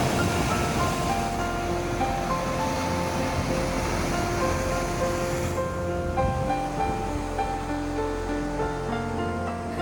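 Arabian Sea waves wash beside St Angelo Fort in Kannur, producing a continuous broad roar of surf. It stays steady and fairly loud throughout, with no distinct individual breaks and no voices.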